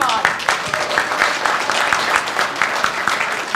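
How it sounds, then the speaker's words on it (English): A room of guests at a fundraising event for Ukrainian victims in Edison, New Jersey, bursts into sustained, lively applause, a thick continuous patter of many hands with a few sharper claps standing out. "a big round of applause for everyone"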